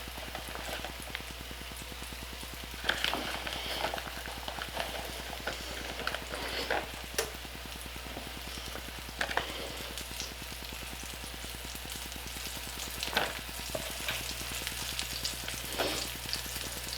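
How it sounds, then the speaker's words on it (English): Flour-coated squirrel meat fries in oil in a pan, a steady dense sizzle with crackling pops that runs close and continuous for the whole span, no voices. "she's good and covered, so we're going straight into the pan. Let that baby fry up."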